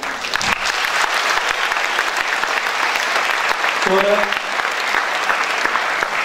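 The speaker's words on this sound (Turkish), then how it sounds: "Ben öncelikle sizleri alkışlıyorum." Concert audience at a spring concert applauding steadily and loudly throughout, a dense, continuous wash of clapping with a brief spoken word and a short sung or toned note partway through.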